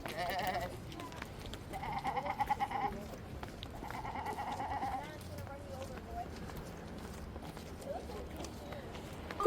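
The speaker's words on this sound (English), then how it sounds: "Oh my god, it's a sheep." A sheep bleats in a few short wavering calls, heard alongside footsteps and people talking nearby in an outdoor setting.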